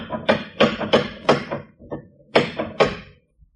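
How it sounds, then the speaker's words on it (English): Heavy knocks on a wooden door in an old radio drama, struck in two hard groups of blows: four, then a single soft tap, then two more, loud, close and with no voices. "Anyone in the neighborhood would have heard that knock."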